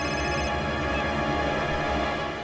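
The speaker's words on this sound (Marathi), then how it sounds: "त्याच बिल्डरचा फोन आलाय" A telephone rings with a steady, loud electronic tone filling the short moment, no talk heard alongside it.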